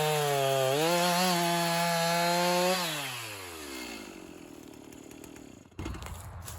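A chainsaw revs loudly, then bogs and winds down as it cuts through a log with its dogs engaged in the wood, a rough sawing noise trailing off before a brief clunk near the end.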